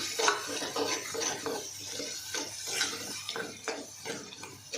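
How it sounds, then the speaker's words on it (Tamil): Ground masala being stirred and turned in hot oil in a pan for an anchovy fish curry, giving a steady run of soft scraping strokes and light sizzling, close by with no talking. "நல்ல எண்ணெயில் இந்த மசாலாவை நல்லா பிரட்டணும், கலர் மாறணும்"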